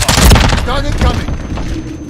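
A stun grenade detonates in a multiplayer shooter video game, a heavy boom and rumble at the start that fades out, with a voice talking over it.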